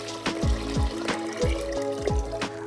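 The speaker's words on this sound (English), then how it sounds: "top it up with fresh warm water." Fresh warm water poured from a vessel into a pot of soaked, washed dal, giving a close, loud gushing splash with rhythmic surges and glugs over about three seconds, no talking.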